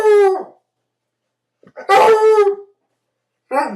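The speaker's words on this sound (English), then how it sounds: "he's a hound dog, which means he sniffs and barks" A hound dog howls in three separate bursts, loud and close, with long drawn-out baying cries broken by short pauses and no talking over it.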